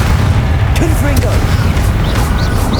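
A blasting-curse explosion in Hogwarts Legacy booms loud and continuous across the whole moment, a heavy rumbling blast with a voice shouting a spell over it.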